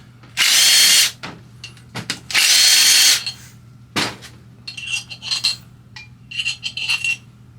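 A power drill spins off the head bolts of a Trailmaster 161QMK engine, two loud whirring bursts of about a second each, followed by metallic clinks and rattles of bolts and tools being handled.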